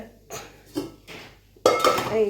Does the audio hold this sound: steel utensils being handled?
yes